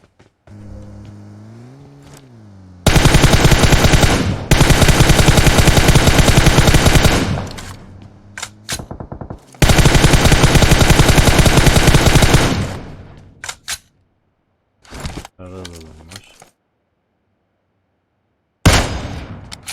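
Bursts of automatic gunfire from the PUBG Mobile battle royale game, with loud sustained volleys, a pause, then another long burst and scattered shorter shots trailing off.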